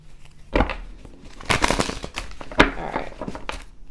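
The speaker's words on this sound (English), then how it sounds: "All right, one more shuffle." Tarot-style reading cards shuffled by hand, a run of dry papery riffles and slaps with a few sharper snaps, close and fairly loud, with no talking.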